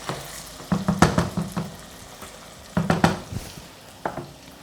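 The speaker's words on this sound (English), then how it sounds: "you leave this to fry off until the onions are nice and soft" Onions frying in a pan for a beef stew, a steady soft sizzle broken by several bursts of louder scraping and clatter from stirring, close and with no talk.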